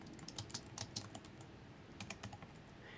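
Quiet clicking of fingers typing on a computer keyboard into a search box, a run of irregular keystrokes with a short pause, no talking.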